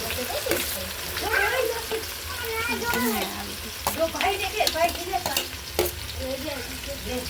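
Onions frying and being stirred in a pan, a steady sizzle with scraping stir strokes throughout, while a voice talks over the cooking.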